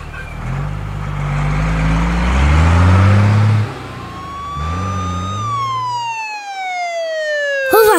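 Police car siren in a children's cartoon, a loud wailing siren that rises and falls close by over engine rumble, then sweeps into a long descending tone that fades before a short sharp hit at the end.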